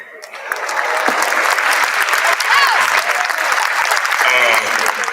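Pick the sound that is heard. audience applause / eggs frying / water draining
audience applause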